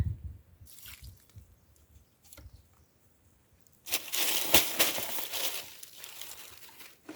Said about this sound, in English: And then water it in.